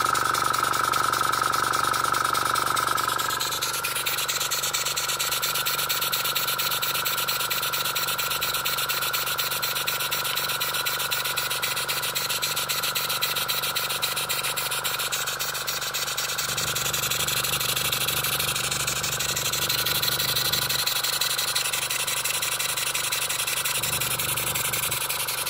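An S10 steam or air engine runs on low air pressure, giving a steady, loud, rapid mechanical chugging that continues throughout with only slight changes in tone.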